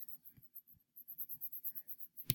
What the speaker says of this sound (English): So I'm going to erase.